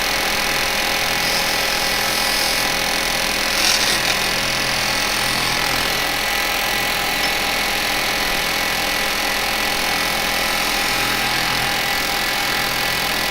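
A woodturning lathe spins a threaded lidded pot while a bevel-rubbing tool makes a straight-edged finishing cut, producing a loud, continuous hissing and whirring close by with no break.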